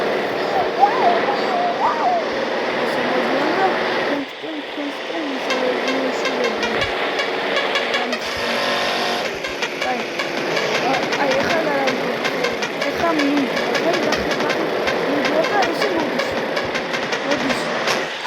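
Large vehicles roll past on a road, a continuous heavy engine rumble and rolling noise filling the whole stretch at steady loudness, with a brief dip partway through and voices mixed in.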